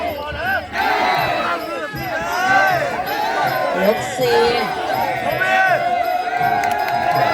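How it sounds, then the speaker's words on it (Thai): Crowd at a rural Muay Thai boxing match in southern Isan roaring and chanting in rhythmic swells of cheering, loud and close, with a commentator talking over it throughout. "เสียงเชียร์ดังเหลือเกินครับ"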